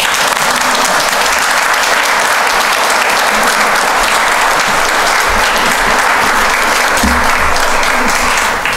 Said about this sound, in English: It's time for applause.